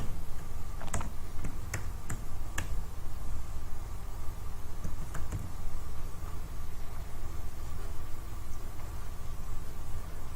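Scattered keystrokes on a computer keyboard while text is entered during Python-based custom Alexa skill setup: a few quick clicks in brief clusters over a steady background hiss, with long gaps between and no talking.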